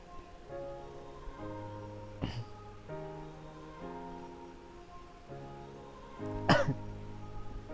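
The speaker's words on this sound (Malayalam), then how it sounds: "പനിയുടെ ഇടയ്ക്ക് ചുമക്കുന്നുണ്ട്" A man with a fever and lingering cold coughs twice, one short bout and then a louder, harsher one a few seconds later, over a steady droning background.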